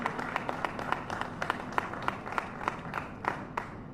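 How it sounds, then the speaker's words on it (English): Moderate applause from an audience at a public update on the Washington Bridge, a steady patter of many hands with distinct claps standing out, fairly distant and lasting a few seconds. "Let's give them a little round of applause for the work that they're doing."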